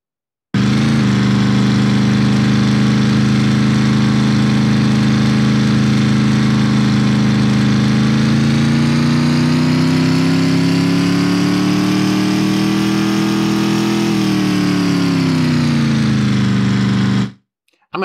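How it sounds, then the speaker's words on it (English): A loud, continuous video game car engine drone in a Unity project that steadily rises in pitch as it accelerates, then drops back before cutting off abruptly. "Did you hear how the car engine changed while I was driving?"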